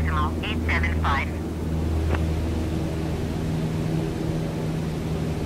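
A Cessna's engine in Microsoft Flight Simulator drones steadily as a low, even hum throughout, with a brief burst of radio-style voice chatter at the start.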